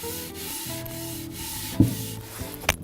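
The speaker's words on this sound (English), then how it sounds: "I'll be using my Scotch pad just to remove any excess" Scotch pad scrubbing excess chalk paint off a distressed painted surface: a steady, close abrasive rubbing with a sharper scrape-like burst near the end, heard alone.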